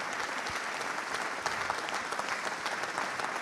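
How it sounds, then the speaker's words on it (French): Audience applause at an evening business club gathering as a guest is welcomed, steady dense clapping filling the whole stretch at moderate level, with no speech over it. "Je vous demande d'applaudir"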